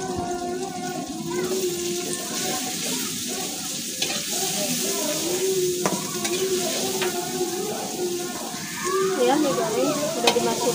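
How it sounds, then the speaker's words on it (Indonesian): Spice paste sizzling and frying in a pan while being stirred, a continuous close crackle with scraping strokes, as cassava-leaf dishes are cooked; faint voices and background sounds are mixed underneath. "Saya akan mulai menggoreng,"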